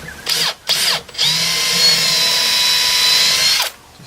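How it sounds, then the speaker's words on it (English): A power drill with a 6mm bit bores a hole for a storm rod screw, giving a loud, steady high whine that starts in two short bursts and then runs continuously for over two seconds before stopping. "So we drill a hole through."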